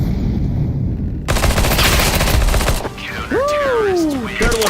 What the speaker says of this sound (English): Incendiary out.